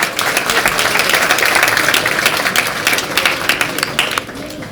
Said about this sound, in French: Applaudissez-moi très fort ce corps enseignant.